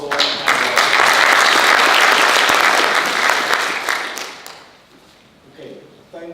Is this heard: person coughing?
no